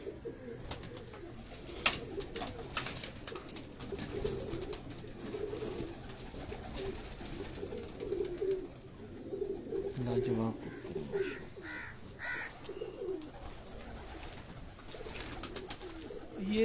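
Breeder's pigeons in Lahore cooing in soft, repeated low calls, with faint chirps and background rustling; a voice murmurs quietly in places.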